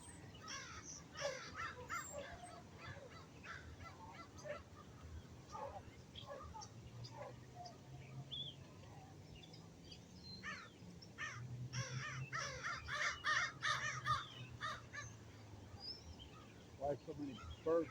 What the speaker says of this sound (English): Why so many birds on the pond?